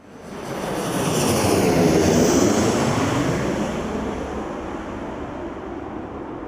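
An aerobatic airplane emitting smoke roars overhead, its engine swelling to a broad loud rumble, then slowly fading as it passes into the distance.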